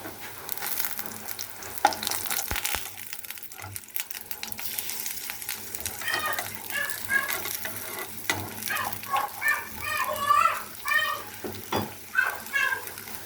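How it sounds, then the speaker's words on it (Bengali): Lentil fritters (bora) fry in oil in a pan over lowered heat, giving a steady close sizzle with occasional stirring scrapes, while a cat meows faintly in the background. "এভাবে আমি বড়াটি ভেজে নেব।"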